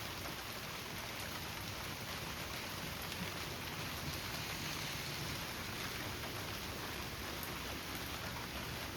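Steady rain falls across an open landscape, producing a constant, even hiss of countless drops with no breaks and no voices, heard at a fairly soft level throughout.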